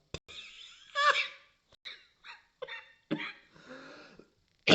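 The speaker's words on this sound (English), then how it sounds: "Sorry, I'm coughing." Several short, rough coughs and throat sounds, close by, in uneven bursts with brief pauses between them.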